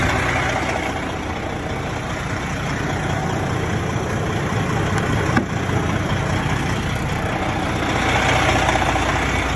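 A Class 3 truck's engine idles steadily and close by during a pre-trip walk-around inspection, a continuous loud rumble with no breaks for the whole stretch.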